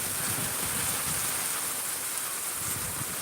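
Heavy rain pours down steadily in Miraj, Sangli, a dense continuous hiss of drops striking surfaces, loud and unbroken with no voices over it.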